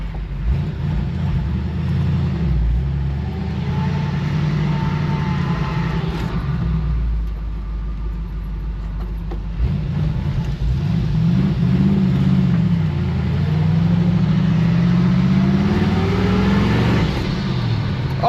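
A 1955 Chevy Tri-Five engine pulling through the gears, a loud, close, steady low drone with a rev drop and then rising acceleration, no talking.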